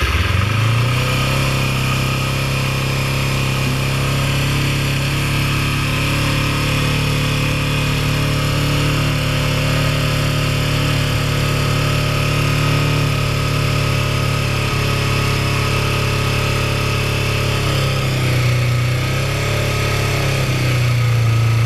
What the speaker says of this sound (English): the engine is cold. And the way I started is with full choke. Full choke on,